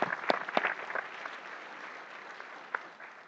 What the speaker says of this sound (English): Give yourselves a round of applause for your tremendous hard work and advocacy.